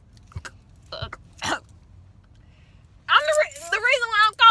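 A few short, raspy coughs or throat-clearing sounds close by, spaced apart in quiet, followed by someone starting to talk.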